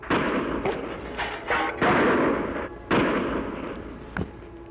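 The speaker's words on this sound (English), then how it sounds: "How many shots did you count?" A volley of sharp, booming gunshots in an old 1953 Western drama, several blasts in quick succession with ringing reverberant tails, loud and close, ending with one last softer crack.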